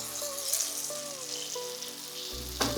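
Red chili powder, salt and turmeric sizzling in hot ghee for a brinjal curry, a steady close frying hiss with faint crackles and a few light clinks, no voices.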